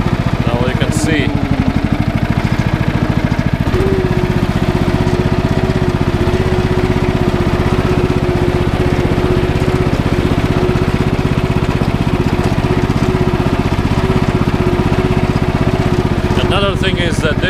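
A 12 hp 2018 Stiga Tornado 2098 H ride-on lawn mower runs steadily nearby, its engine drone holding even and loud throughout with a slight pitch rise partway in, while a person talks over it.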